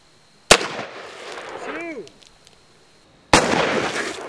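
A .223 rifle fires a shot into a row of water balloons, giving two sharp, loud cracks about three seconds apart, each with a burst of splashing and a short decaying tail.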